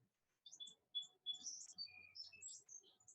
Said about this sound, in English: Do you hear the birds tweeting?